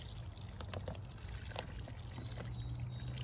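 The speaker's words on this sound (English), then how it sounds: "So I'm just going to water these in." Water pours and trickles steadily onto soil and newly planted beans, cucumbers and herbs, a soft continuous splashing with a low hum underneath.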